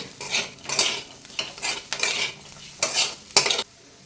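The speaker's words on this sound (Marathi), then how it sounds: "हे हरभरे थोडेसे या मसाल्यामध्ये पुन्हा एक मिनिटभर भाजून घ्यायचे आहेत" Crushed chickpeas are scraped and stirred through a spiced masala in a pan, giving rhythmic bursts of spatula scraping over a low sizzle, six or seven strokes in a row; no voices.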